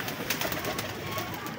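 Pet pigeons kept in a loft coo softly and continuously, a steady murmuring flock sound under some background noise.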